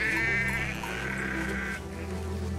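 Sheep bleating in the video game Valiant Hearts: The Great War, a sustained wavering bleat over a low droning background, heard alone and fairly faint.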